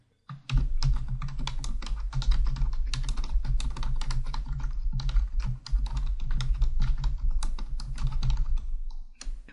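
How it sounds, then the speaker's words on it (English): Steady, rapid keystrokes on a computer keyboard run continuously up close for nearly ten seconds, with only brief pauses and no voices. "Okay, so you'll continue to type."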